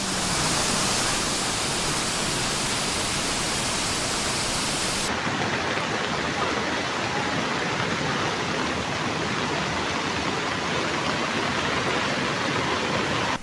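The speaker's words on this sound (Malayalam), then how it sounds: "മേഘവിസ്ഫോടനത്തെ തുടർന്ന് ഉത്തരാഖണ്ഡിലെ തമസ നദി കരകവിഞ്ഞൊഴുകുന്നു." The Tamsa river in Uttarakhand, swollen and flooding after a cloudburst, roars as a loud, unbroken rush of water that fills the whole stretch, with no voices.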